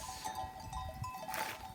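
Sheep penned behind a food garden fence give faint bleats amid outdoor background noise, distant and soft over a low rumble.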